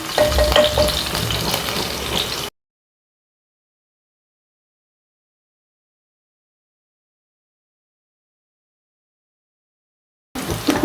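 Chopped ginger and garlic sizzle in a pan for soup, a close crackling fry for a couple of seconds, then near silence before the sizzling briefly returns at the end.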